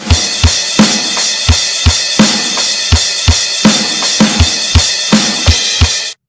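A real drum kit plays a standard-tempo beat for a song, steady kick and snare hits with a sustained crash cymbal wash throughout, close and loud, no voices.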